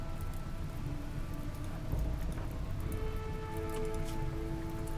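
Steady rain patters down across a RimWorld game scene, a dense continuous hiss of drops on surfaces with faint tonal game sounds running underneath throughout.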